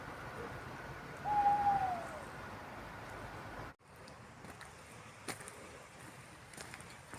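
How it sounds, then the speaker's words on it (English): A single faint, drawn-out owl hoot carries from a distance across a pitch-black, freezing night at an abandoned car park, followed by near-silence and a few small close rustles. "There's owls."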